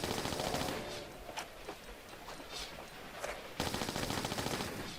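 Rapid gunfire in the video game Tomb Raider IV, dense automatic bursts with single cracks between them, loud and continuous, with brief lulls before a final sustained burst.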